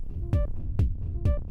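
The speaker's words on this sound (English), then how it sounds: "I've made a kick drum" Three deep, punchy synthesized kick drum hits at an even pace, each a short thump with a quick decay.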